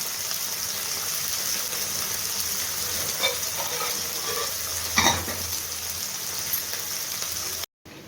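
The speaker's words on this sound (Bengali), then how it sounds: "উচ্ছেগুলো হোক ভাজা ভাজা" Bitter gourd pieces frying in a pan for shukto, a steady sizzle with a few stirring knocks of the spatula, heard alone with no talk, ending in a brief cut near the close.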